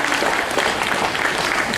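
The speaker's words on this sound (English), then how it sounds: "What about one last round of applause for that series of behaviours?" Audience applause at a tiger show, a steady wash of clapping from a crowd that holds evenly for the whole stretch without a break.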